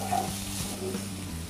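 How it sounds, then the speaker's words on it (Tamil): Soft sizzling and stirring of tomatoes sautéing in a pan for mushroom pepper masala, close and quiet, over a low steady hum from a nearby burner or fan. "இப்போ நமக்கு தக்காளி நல்லா வதங்கட்டும்."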